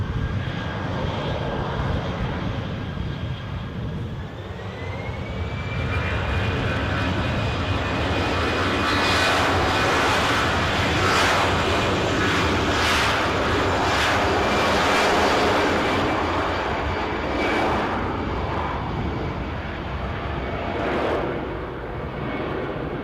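An airplane rolls for takeoff at Edinburgh airport with a loud, sustained jet engine roar whose pitch rises and holds steady, then begins to fade slightly toward the end.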